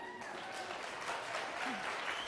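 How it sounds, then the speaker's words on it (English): Audience applause at a political candidate forum for a congressional district race, steady dense clapping filling the room throughout, with faint voices mixed in underneath. "Please hold your applause."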